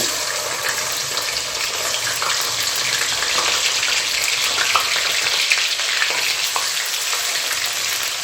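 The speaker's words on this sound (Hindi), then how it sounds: "कढ़ाई में ऑयल डाल दिया है तो अदरक और लहसुन" Loud, bright crackling sizzle of ginger and garlic frying in hot oil in a kadhai, continuous and close, with small pops scattered throughout.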